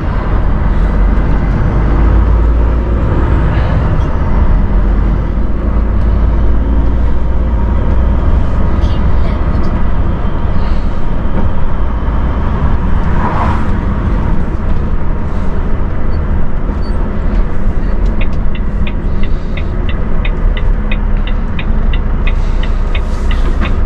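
Steady, loud engine drone and road rumble from a Volvo FH truck with a big cab and 500 bhp engine, heard from inside the cab while driving, continuous throughout with a brief higher whine near the end.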